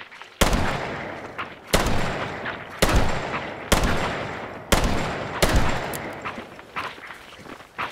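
Five loud, sharp flintlock pistol shots fire one after another at roughly even intervals, and each blast trails off into a long echoing decay before the next.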